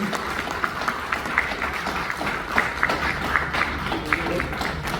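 Audience at a Dubai mushaira applauding as an Urdu literary award is presented, a steady crowd of clapping with scattered sharper claps, moderately loud, with faint voices mixed in.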